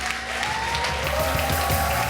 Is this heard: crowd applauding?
yes